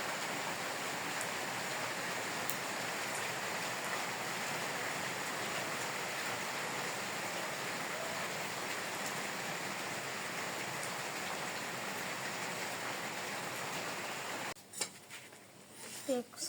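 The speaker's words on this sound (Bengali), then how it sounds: "গুড়ি গুড়ি বৃষ্টি পড়তেছে" Light drizzle falling in a village during a cool, rainy spell, a steady soft hiss that holds evenly and close for most of the stretch, then breaks into brief rustles and knocks near the end.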